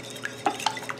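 A utensil whisks eggs and vegetable oil for a maple pecan cookie mix in a bowl, giving a few soft scrapes and three or four light taps against the side. The sound is close and quiet over a faint background.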